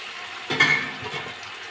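Onion and ginger-garlic paste fry softly in oil in a pan for a shol fish and potato curry, a low steady sizzle with a brief faint utensil clink.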